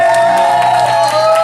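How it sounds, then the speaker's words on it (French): A studio audience in a French TV show applauds and cheers, a loud, steady wash of clapping and crowd noise under a sustained musical tone. "Je pense qu'on peut l'applaudir"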